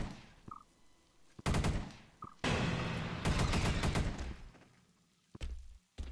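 Weapon fire in the sci-fi shooter Space Beast Terror, set aboard an alien spaceship: loud rapid bursts and single shots crackle in clusters, broken by brief lulls and faint mechanical clicks.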